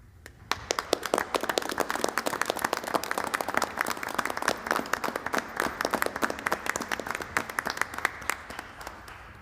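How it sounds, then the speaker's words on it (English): Applause at a Sparta Township school board meeting for students and teachers in the audience, a small crowd whose separate, crisp handclaps rise quickly and hold at a steady, moderate level. "please rise so we can give you a round of applause."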